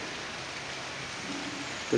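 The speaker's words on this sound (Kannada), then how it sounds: "ಜೋರು ಮಳೆ ಬರ್ತಾಯಿದೆ." Heavy rain falling as a steady, even hiss that stays faint and constant throughout, with no other sound.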